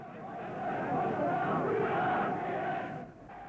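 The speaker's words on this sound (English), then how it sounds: "The excited crowd shout out, "We want to see our leader."" An excited crowd shouts and chants together at a 1930s political rally in Germany, a loud, massed roar of many voices that swells and holds, heard at a distance on an old recording.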